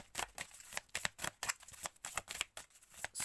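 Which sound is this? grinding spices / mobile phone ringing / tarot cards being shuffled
tarot cards being shuffled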